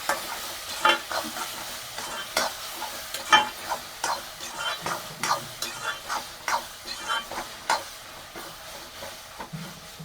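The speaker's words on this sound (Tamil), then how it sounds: "இஞ்சி பூண்டு போட்டு பேஸ்ட் போட்டு ஒரு 5 மினிட்ஸ் நல்லா வதங்கணும்." Ginger garlic paste sautés in a pan for a Tamil prawn gravy, a soft sizzle under repeated spoon scrapes and taps against the pan in an uneven rhythm, close and moderately quiet, with no speech.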